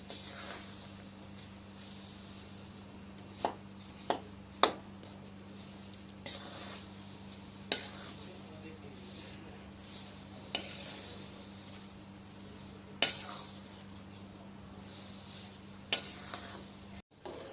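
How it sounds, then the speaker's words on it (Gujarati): Slow stirring of jaggery syrup in a pan, a steady low hum with soft scraping strokes and occasional sharp clinks of the spoon against the metal. "હવે એને આપણે ધીમે ધીમે હલાવતું રહેવાનું છે"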